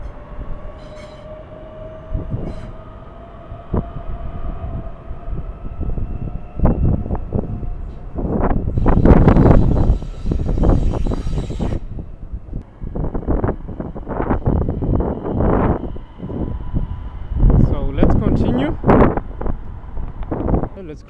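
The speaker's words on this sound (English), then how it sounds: "That train they call the rubber nose." A train rumbles past at Copenhagen Central Station, with rising and falling mechanical noise, wind buffeting the microphone and brief voices heard now and then.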